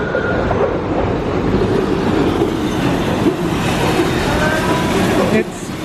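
The roller coaster train at the Kennywood amusement park runs with a continuous loud rolling rumble and clatter that fills the clip, then drops off at the very end.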